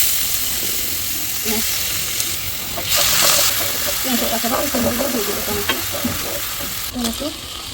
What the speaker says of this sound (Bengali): ধরিয়ে দিচ্ছি চিকেন